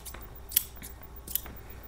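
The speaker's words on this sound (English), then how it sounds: "Next up is just a very solid standard pair of sewing scissors." A solid standard pair of sewing scissors snips close by in quiet ASMR style, two crisp sharp cuts about a second apart with soft rustles and clicks around them.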